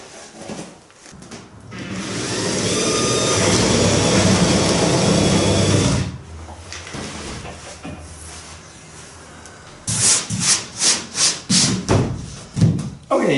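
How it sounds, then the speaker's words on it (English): A steady grinding whir from a drill bit countersinking a screw hole in wood for several seconds, then stops, followed by a few short bursts of drilling and rubbing. "I can go in and do a bit of countersink there for the head of the screw"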